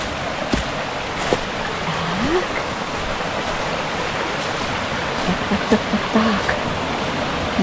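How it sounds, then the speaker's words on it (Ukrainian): Horodylivskyi waterfall heard as a steady, broadband rush of falling water in a forest setting reached by bicycle, continuous and fairly close, with a few faint knocks and brief voices in the background. "Городилівський водоспад."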